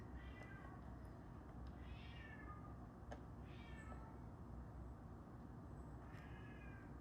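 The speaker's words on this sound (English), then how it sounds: "Cat" A cat meows several times, four or five drawn-out, rising-and-falling cries spaced a second or so apart, fairly close over a steady low background hum.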